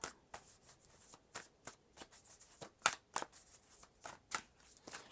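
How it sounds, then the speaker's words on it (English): Tarot cards are shuffled and pulled by hand, with soft, close, irregular papery flicks and riffles and a few sharper snaps, quiet and without speech. "Let's pull out some more cards."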